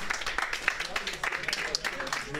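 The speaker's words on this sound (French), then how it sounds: "On peut les applaudir." Audience applause with scattered cheers in a bar during a live quiz-show night, a dense, steady patter of many hands that carries on for the whole stretch, mixed with crowd voices.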